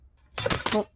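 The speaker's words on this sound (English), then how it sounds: "sorry about that noise, it's my ruler," Light clinking and rattling of two rulers knocking together, a brief busy clatter for about half a second after a quiet start.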